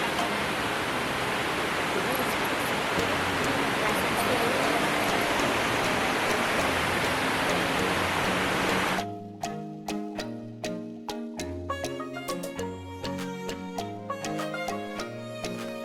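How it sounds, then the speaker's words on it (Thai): A waterfall under a bridge near Neuschwanstein Castle roars as a loud, steady rush of water for about nine seconds, then cuts abruptly to music. "ใต้สะพานมีน้ำตกด้วย"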